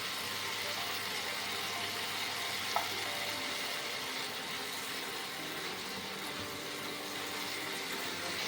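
Tomatoes and spices fry in a pan for a vegetarian Bengali-style jackfruit curry, giving a steady, even sizzle throughout with one small pop partway through.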